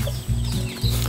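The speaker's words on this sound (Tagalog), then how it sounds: "Opo, daming manok." Chickens cluck and murmur close by in a dense, noisy farmyard mix, their repeated low calls pulsing in short bursts over a steady background hum.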